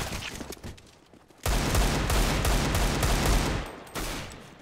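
Sustained automatic gunfire in a competitive shooter match. Sparse shots and clatter build into a loud, dense barrage that lasts a couple of seconds, cuts off, then drops back to scattered quieter shots.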